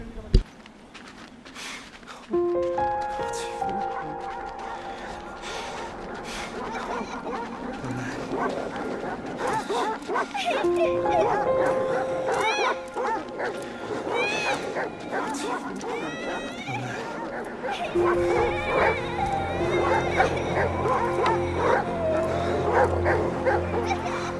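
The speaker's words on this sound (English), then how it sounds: "I'll have to find something to distract the dogs." Dogs barking and yipping in the video game Valiant Hearts: The Great War, repeated sharp barks and whimpers near and far amid game sounds and music, with someone talking over them.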